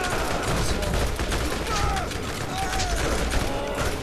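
Burst-fire gunshots in the video game Borderlands, rapid clusters of loud cracks over constant gameplay noise, with players talking throughout.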